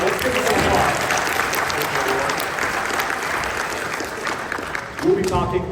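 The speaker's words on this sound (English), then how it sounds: "let's give this a applause" Audience at a LEGO Ninjago designer panel at a BrickWorld convention claps loudly and steadily, with voices cutting in over the applause near the end.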